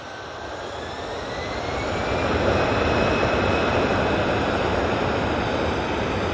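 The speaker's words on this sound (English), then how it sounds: "we do have the ATR 72, our first prop of the day. It's coming in from Belfast" An ATR 72 turboprop airliner arriving at Manchester from Belfast swells into a steady, loud propeller drone with a faint whining tone drifting across it, holding strong to the end.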